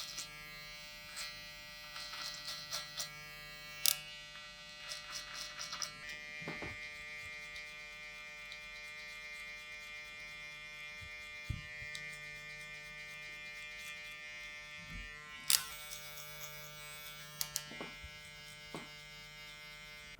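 Electric hair clippers with a 1.5 guard cutting a man's thinning hair in a barbershop, a continuous close buzzing hum with intermittent clicks and brief louder bursts as the blade moves through the hair.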